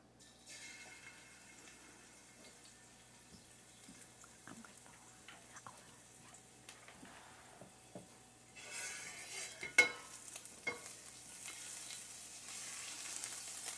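Chopped garlic kept in olive oil hisses faintly in a pan. After a few soft clinks the sizzle rises louder partway through, joined by a sharp knock of the pan, then carries on steadily.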